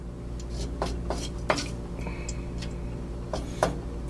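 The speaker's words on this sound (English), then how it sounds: "fortunately I've got the small burner here in the kitchen, so we just stir that up a little bit" Food is stirred in a pan on a small kitchen burner. A steady low hum sits under scattered scrapes and clinks of a utensil against the pan, with a couple of sharper knocks.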